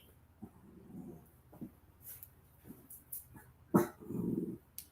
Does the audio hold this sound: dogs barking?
yes